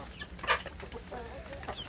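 Free-range village chickens and chicks feeding outside give scattered clucks and short peeping calls, one sharper cluck standing out, over a low ambient hum with no talking.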